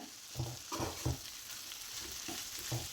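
Moong dal with grated coconut and chili flakes stirred in a pan, with a steady sizzle under a series of rhythmic scraping strokes about every half second, close and moderately loud with no voices.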